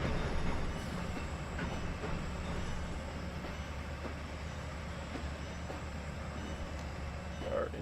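A simulated train in the Trainz 12 game rolls around a bend in a faint, steady rumble, with a soft rhythmic clatter and a light squeal near the end.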